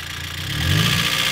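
A high-mileage car engine with 276,000 miles runs with no oil, a brief low idle drone that swells slightly, close and steady.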